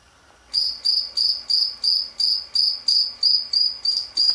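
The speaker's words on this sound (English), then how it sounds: "It's just cricket chirping." A cricket chirps in a fast, even pulse, about eleven bright trills at steady intervals, close and alone against near silence.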